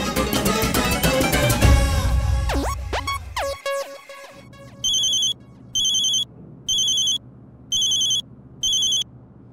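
An outgoing phone call plays a short stretch of music, then a pause, then five evenly spaced ringback pulses sounding alone at a steady rhythm.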